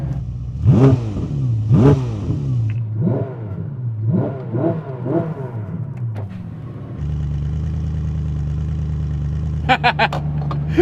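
A Ferrari or Koenigsegg supercar engine, one of them with no gearbox, only a clutch, revs sharply in repeated loud blips near the microphone, then settles into a steady high drone before a final flurry of rapid revs.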